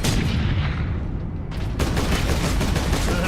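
Dense, sustained gunfire from allied troops in the video game Space Marine, a continuous loud barrage of rapid shots and booms filling the scene without pause.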